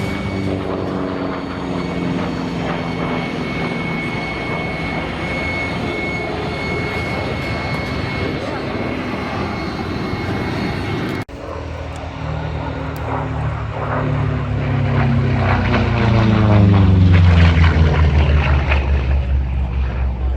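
A P-47G Thunderbolt warplane named Snafu makes low-level passes over the Central Coast airfield at Santa Maria, California, its loud propeller and piston-engine roar swelling as it approaches and sweeping down in pitch as it passes overhead.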